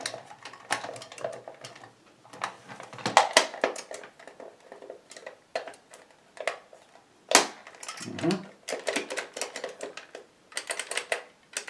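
Rapid, irregular plastic clicks of a vintage Cheetah Mach 1 joystick switch being pressed repeatedly, close by, in uneven bursts with brief pauses.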